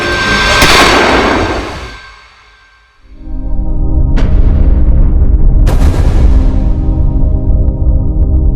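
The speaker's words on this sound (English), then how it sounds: "Becky shot him" A gunshot in a Nigerian Nollywood comedy movie: a loud close blast with a booming decay, then after a short gap two more sharp cracks over a sustained dramatic rumble, no voices.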